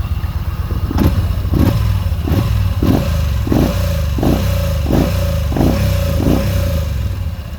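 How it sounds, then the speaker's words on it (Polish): A loud 2014 Yamaha Midnight Star 950 motorcycle engine with stock exhaust runs close by with a deep, steady rumble and regular pulsing throbs, revved twice. "Dobra, dwie przegazówki."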